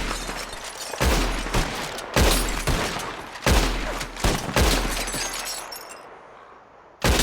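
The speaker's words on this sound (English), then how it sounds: "Whoever shoots more of these bottles wins." Gunshots ring out in Red Dead Redemption 2 as bottles are shot and shattered: about seven sharp, loud reports at uneven intervals, each trailed by a ringing, crackling tail of breaking glass and echo.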